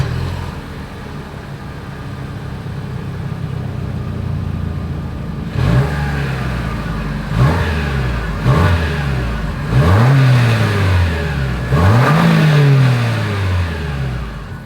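A 2023 Lexus RX 350 exhaust idles steadily, then gives four sharp revs that rise and fall in quick succession, each loud and close, with the last rev held longer.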